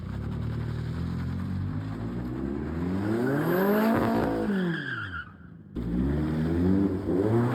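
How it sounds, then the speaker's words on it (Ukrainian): A car pulls away with a rising engine roar, then slides into a drift with long, loud tire squeals that pitch up and down before a brief lull and a renewed rev. The driver is blind, at an adrenaline rehabilitation event for veterans in Kalush. "Сідаємо за кермо, щеплення, перша і поїхали."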